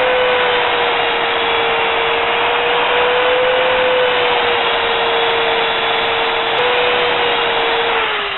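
A wood lathe turning a square bowl at reduced speed, around 500, gives a steady, loud, continuous motor whine with a hum that holds pitch and dips slightly near the end, alone without talk.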